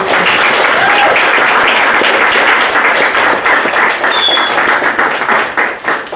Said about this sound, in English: Let's have one more round of applause for all of our readers.